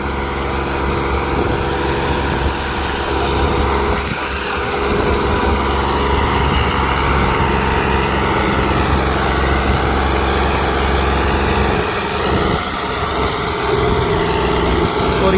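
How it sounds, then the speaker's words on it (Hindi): A heavy tractor engine chugs steadily at low speed in third low gear, a loud, continuous low-pitched drone with slight variations in load. "लो के तीसरे गेयर में ट्रैक्टर चल रहा है।"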